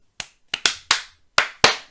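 Sharp hand claps in a loose rhythm from a song, six crisp, close claps spaced irregularly over two seconds with nothing else audible.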